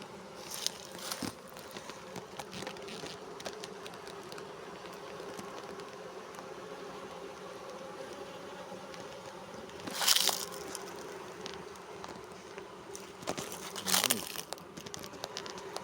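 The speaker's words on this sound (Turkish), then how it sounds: "Oo, bayağı bir vızıldama sesi geliyor." Hornets and honeybees hum and buzz steadily close by at beehives, with a few sharp rustling cracks breaking in now and then.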